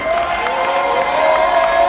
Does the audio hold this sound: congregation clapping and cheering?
yes